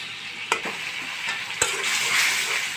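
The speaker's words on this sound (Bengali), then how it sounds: "মশলাটা কষানো হয়ে গেছে।" Onions with ginger paste, cumin, coriander, turmeric and chili powder sautéing in oil for a potato and chicken curry, a steady close sizzle with a few sharp spatula clicks against the pan.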